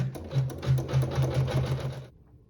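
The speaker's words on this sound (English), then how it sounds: "we'll sew our seam" A sewing machine stitches a seam joining two pieces of fabric, a rapid rhythmic mechanical whir with steady needle pulses, close and alone, stopping abruptly near the end.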